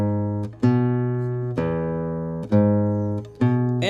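Fingerstyle classical guitar plays the Malagueña melody alone, a slow line of four plucked notes that ring and decay, each sustained with clear harmonics before the next is struck.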